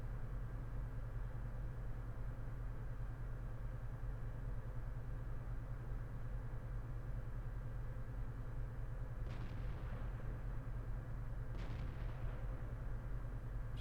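A Crusader SP tank destroyer in World of Tanks fires its gun: two muffled booms, a couple of seconds apart, that ring out over a steady low engine drone.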